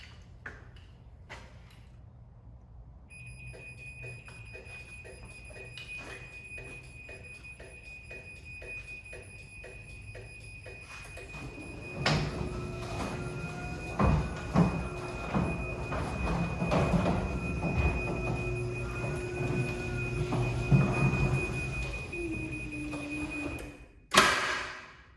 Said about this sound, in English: It's gonna beep, letting anybody in the garage know that the door is about to close.